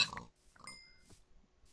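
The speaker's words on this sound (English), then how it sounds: "Oh, more pigs." Pigs in a video game give a few short, faint oinks and grunts in quick succession, with quiet gaps between them.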